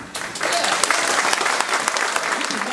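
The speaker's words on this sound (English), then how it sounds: "We can clap as much as we want for them." A school concert audience applauds a 7th grade band steadily and loudly, dense clapping filling the whole stretch with a few sharper claps standing out.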